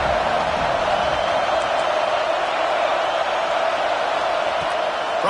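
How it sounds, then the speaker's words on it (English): Football stadium crowd at a Cincinnati vs USC college game roaring steadily on a third-down defensive play, a loud, continuous wash of cheering with no break across the span. "Decibels rising as the crowd gets behind this defense on 3rd down."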